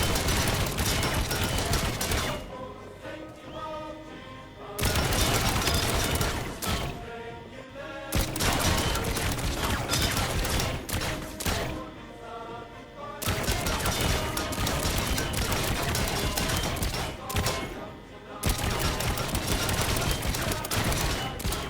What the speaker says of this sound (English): First off, the machine gun. It's going to take a while.